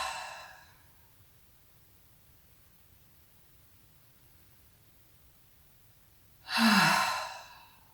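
Two deep breaths from a yoga relaxation exercise. A soft exhale fades at the start, and a loud, close, airy sigh follows near the end over a quiet background hiss.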